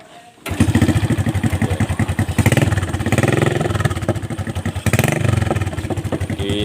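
An old motorized becak engine, a tricycle used for hauling palm fruit, is kick-cranked and catches, then runs with a loud, steady, chugging clatter and a couple of throttle surges.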